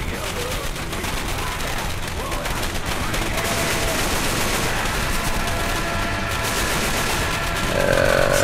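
Fireworks in the Left 4 Dead 2 video game crackle and pop in a dense, continuous barrage of rapid bursts, loud and unbroken throughout, with game effects mixed in.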